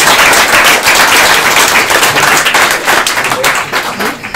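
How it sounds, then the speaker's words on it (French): A live audience applauding at a French tech forum workshop, dense sustained clapping from many hands, loud and close, tapering slightly toward the end. "Je pense qu'on peut les applaudir."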